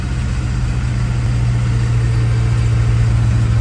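A GMC 366 big block V8 in a C7000 boom truck runs steadily and loud, a deep constant rumble close by with no talking.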